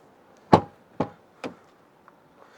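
Knuckles rap on the door of a Hyundai i20 car: four sharp, solid knocks spaced about half a second apart, close and clear in a quiet setting.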